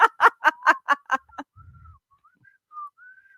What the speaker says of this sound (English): I actually whistle better when I'm breathing inwards.